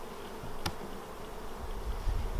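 Honey bees buzz around an open hive during requeening, a soft, steady hum over faint background noise with one brief click.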